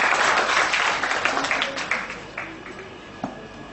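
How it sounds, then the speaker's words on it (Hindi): Audience applause at a Hindi motivational talk on self-confidence, loud clapping at the start that gradually thins and fades over a few seconds, with a last stray clap near the end. "तो एक बार जोर से हम तालियां बजाते हैं ताकि पड़ोसी की नींद खुल जाए।"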